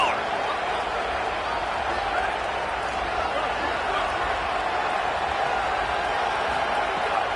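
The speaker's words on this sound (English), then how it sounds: "Crowd getting this defense whipped up on 3rd down" A stadium crowd at a football game roars steadily on third down, a dense, unbroken wall of cheering that stays level throughout with no distinct voices standing out.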